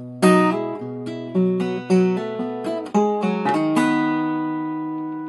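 Solo acoustic guitar plays a lick from a song, a handful of plucked notes with quick hammer-ons and pull-offs, ending on a ringing chord that slowly fades.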